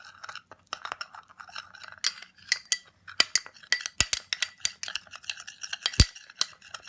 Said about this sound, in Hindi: अब हम इन सब चीज़ों को मिक्स कर लेंगे